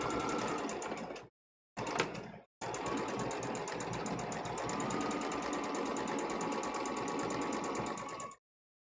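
A sewing machine stitches fabric in zigzag and straight stitch, running loud and close in a steady motor whir with a quick rapid needle chatter. Two short gaps stop the run before it restarts and continues evenly to the end.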